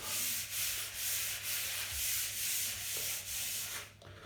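Cloth soaked in white spirits scrubbed back and forth over a small wooden bookcase, close and rhythmic, about eight even rubbing strokes before a brief pause.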